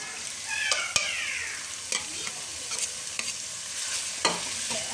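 Tomatoes and green onions sizzle in a frying pan while a utensil scrapes and stirs them, giving sharp clicks against a steady hiss, with a brief squeak partway through and no one talking.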